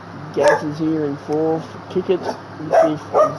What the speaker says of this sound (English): Just excuse my dog here if you could, people.